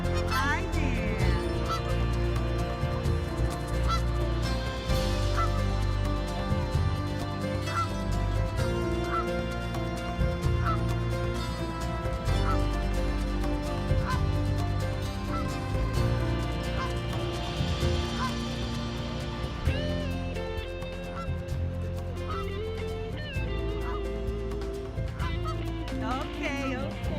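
Ducklings and other waterfowl at close range give off steady honking and quacking calls throughout, against a busy, continuous outdoor background with a voice talking now and then.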